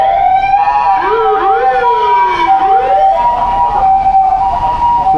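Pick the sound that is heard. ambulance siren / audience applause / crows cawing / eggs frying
ambulance siren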